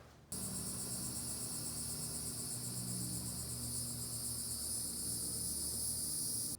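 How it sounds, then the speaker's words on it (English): Steady, dense insect buzzing of cicadas fills a backyard in New Smyrna Beach, Florida, a continuous shimmering drone with a faint low hum beneath it, unbroken throughout. "I enjoyed the stillness of the backyard, listening to the cicadas."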